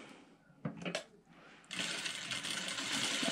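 A sewing machine stitches a piping strip onto fish net, starting after a few handling bumps and then running as a steady close mechanical whir to the end, with no talking.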